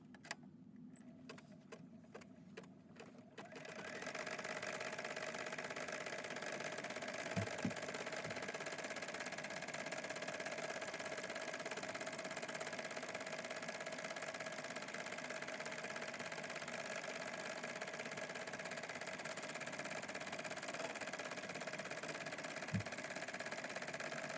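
An embroidery machine hums and whirs steadily as it sews the final white stitching on a gnome flat puppet, running continuously and fairly close after a few opening clicks.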